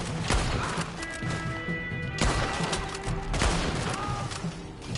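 Dense bursts of gunfire from a shooter game played on a PS4, rapid overlapping shots and impacts with a steady game soundtrack underneath, loud and close, no one talking.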